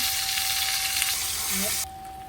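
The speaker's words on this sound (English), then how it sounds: "cooking them on the back now a little bit, just to render down that fat and get it nice and crispy for eating" Tomahawk pork chops sizzle steadily in a hot pan as their fat renders, a dense continuous hiss that cuts off abruptly near the end.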